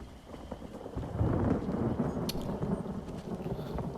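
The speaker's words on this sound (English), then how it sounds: "It is a stormy day in Shadowfen." Rainstorm in the Shadowfen area of a video game, a steady hiss of rain with a low rumble of thunder swelling and fading, faint and fairly distant.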